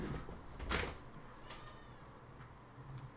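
A pet cat meows at a door, one short bright call early on followed by fainter, softer cries, quiet and somewhat distant against a low room hum.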